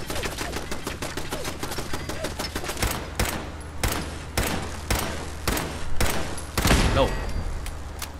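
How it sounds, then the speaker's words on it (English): A machine gun turret fires in the video game Fallout 4, rapid bursts of loud gunfire that thin into slower, spaced single shots, close and dominant throughout. "There's another machine gun turret around here somewhere."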